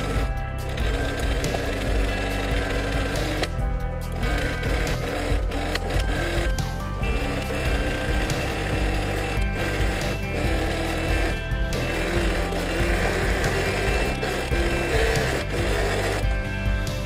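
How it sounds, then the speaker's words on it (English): A sewing machine stitches continuously at a fast steady pace, a dense mechanical whirr with brief pauses, loud and close throughout. "You did it with a sewing machine."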